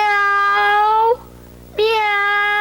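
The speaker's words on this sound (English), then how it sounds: "Scat, you noisy cat!" A cat meows loudly and close, two drawn-out, high, tonal cries separated by a short pause, alone with no talk.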